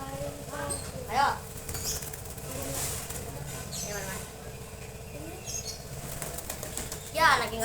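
Domestic pigeons flap their wings in bursts, soft whirring flutters close by that come and go over a background of faint voices and outdoor ambience.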